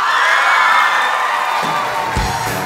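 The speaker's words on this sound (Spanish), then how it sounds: "Reciban con un fuerte aplauso" A studio audience cheers and whoops loudly to welcome a singer onto a live talk show, a dense roar of voices with shrill shouts that thins near the end as a few low thumps break through.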